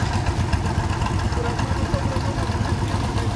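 A Fendt tractor drives in at an outdoor vintage and modern tractor show, its engine giving a steady, loud rumble that stays close throughout.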